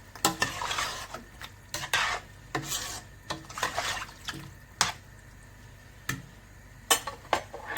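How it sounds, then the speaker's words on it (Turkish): A spoon stirring an okra and meat stew in a pot, giving close, irregular scrapes and knocks against the pot in short bursts with quiet gaps between, and no talk. "Şöyle biraz karıştırayım"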